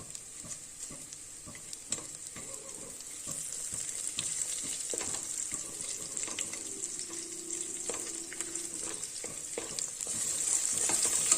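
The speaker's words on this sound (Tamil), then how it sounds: "இது எல்லாத்தையும் இந்த நெய்யில் சேர்த்து வறுத்துடலாம்" Steady sizzling of whole spices, including star anise, frying in hot ghee, with occasional stirring scrapes and clinks throughout.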